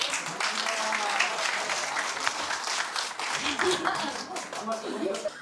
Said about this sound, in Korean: 오늘 이렇게 개업을 하신 우리 이영철 원장님께 다시 한번 응원의 큰 박수 부탁드리겠습니다